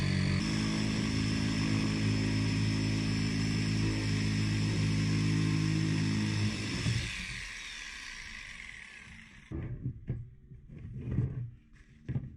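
Power tool cutting a hole into a plastic budget kayak: a loud, steady buzzing whine runs for several seconds, then stops, followed by a few scattered knocks and handling sounds, with no voices.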